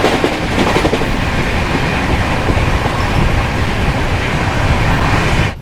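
Howrah Puri Shatabdi Express train running at about 128 km/h, heard from inside as a loud, steady roar of wheels and rails with faint rhythmic clatter, continuous throughout without talking.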